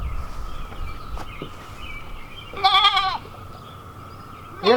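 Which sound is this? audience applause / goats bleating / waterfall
goats bleating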